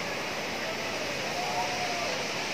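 Takapala waterfall at Malino, South Sulawesi, a steady dense roar of falling water that fills the whole scene without pause, loud and constant.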